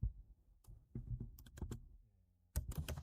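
Keys on a computer keyboard are tapped in quick, uneven bursts, close and fairly soft, with a short pause before a final flurry of typing.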